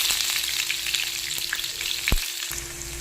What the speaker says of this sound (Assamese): এখন ফ্ৰাই পেন উঠাই দিছোঁ, তাত কালজিৰা কেইটামান দিছোঁ, পিঁয়াজ দি দিম